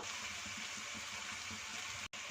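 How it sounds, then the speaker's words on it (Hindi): About a quarter cup of water is poured into gobi masala in a pan on low heat, a soft, faint, steady splashing rush that stops abruptly near the end. "1/4 कप पानी इस तरह से इसमें मिक्स करके हिला लेंगे, इसमें शामिल कर देंगे"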